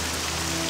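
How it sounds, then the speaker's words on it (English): Steady rain falls in the video game Morrowind (OpenMW), a dense, even hiss of drops on surfaces with no gaps and no voices. "In the rain."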